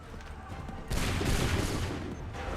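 Massed musket volley from a line of soldiers in Assassin's Creed 3, a sudden loud burst of overlapping shots that tails into a lingering rumble after a quieter lead-in.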